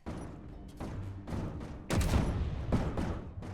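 A turret firing in Space Engineers, a series of heavy, booming shots landing at a fairly even pace, loud and close, with the volume rising partway through.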